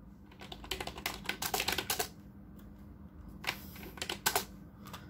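Rapid keystrokes on a computer keyboard while entering fastboot commands into a Windows command prompt to flash a stock Android 10 ROM on a Redmi Note 7, coming in two dense bursts separated by a pause, close and clear with no talking.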